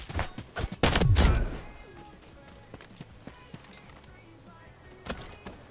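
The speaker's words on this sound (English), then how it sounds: "No, stop shooting at me." Gunfire in the shooter game Delta Force: a loud cluster of close shots early on, then scattered fainter distant shots and footsteps, with a voice talking over it.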